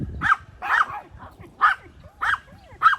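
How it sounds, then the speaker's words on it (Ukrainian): A dog barks about five times in short, sharp bursts spaced roughly half a second apart, close by and loud, with no talking over it. "не буду вам довго знімати цей гавкіт"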